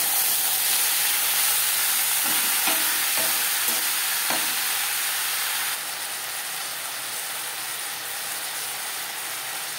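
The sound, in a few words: stirring steamed elephant-foot yam stalks with jackfruit seeds in pan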